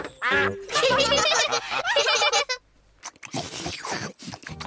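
Loud, rapid cartoon duck quacks in bursts, some stretched and nasal, with a brief pause before another burst of harsher quacking close by.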